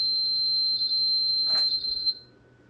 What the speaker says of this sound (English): if I speak up too much, the alarm will sound